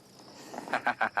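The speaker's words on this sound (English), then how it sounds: "I don't know if you can hear some beautiful frog calls, which I've so missed." Frogs call at night during an evening safari in the African bush, a series of short rhythmic croaks rising out of a soft background hiss of insects and night ambience, moderately faint.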